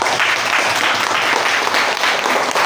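Applause for a second group of students in a classroom, a dense wash of clapping hands that runs steady and loud for the whole stretch with no voices on top.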